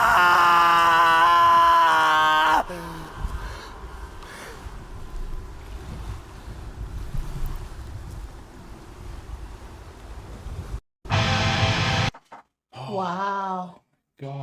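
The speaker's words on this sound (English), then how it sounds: "That wail. That was the scream" A drawn-out wailing scream rings out in a song, loud and sustained at first, then gives way to a long windy roar, with brief harsher vocal cries near the end.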